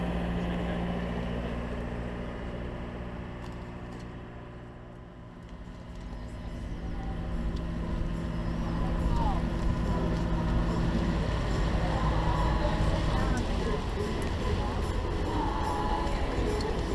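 Boat engine running on Lake Erie near Put-In-Bay, Ohio, a steady low droning hum that holds throughout, dipping slightly midway then growing a little louder, with no talk over it.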